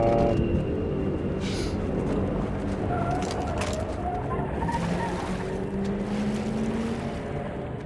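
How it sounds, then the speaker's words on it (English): Car speeding off in the video game Half-Life 2, a continuous engine roar with rising tones, moderately loud and steady, with no talk over it. "It sounds like a car speeding off or something."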